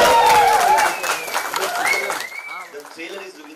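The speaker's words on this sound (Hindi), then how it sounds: "एक बार जरा वेलकम कर दीजिए आप जोरदार ताली के साथ" Applause from a studio audience at a Big FM radio office in a Bollywood film promotion, loud and dense at first, then thinning into scattered claps under a speaking voice.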